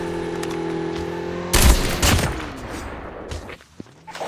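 Video game gunfire erupts suddenly after a steady hum, a loud close burst of rapid shots followed by a few more scattered cracks that fade into quieter background noise.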